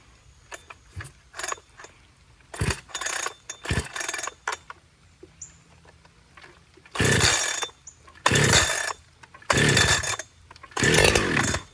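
A clone chainsaw starting up on the pull cord: several short rattling pulls and clanks, then four loud bursts of two-stroke engine firing and revving, close by, with no talk.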